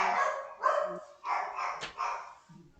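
A dog barks several times in a row, moderately near, with short sharp repeated barks and a brief whine, heard alone without talk.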